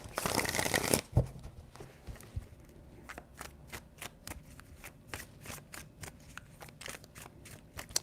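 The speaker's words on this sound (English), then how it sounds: "Three shuffles." Tarot cards being shuffled by hand in a series of three shuffles, a dense rush of riffling followed by rapid crisp flicks and snaps, close and moderately loud with no talk.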